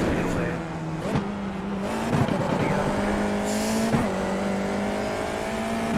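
Formula Vee race cars on a circuit roar past, a steady buzzing engine drone with brief surges as cars go by, close and loud, with a person talking over it.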